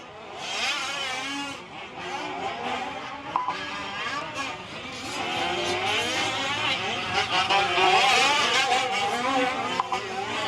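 Fifth-scale M15 RC trucks race around the Fear Farm track in an A main event, high buzzing engines rising and falling as they pass at varying distances, with a race announcer talking over the steady engine noise.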